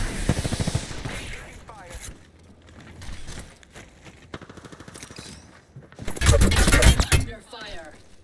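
Bursts of gunfire crack out in the video game Apex Legends: a rapid volley at the start, scattered shots through the middle, then a loud, sharp cluster near the end, with brief in-game voice lines between them.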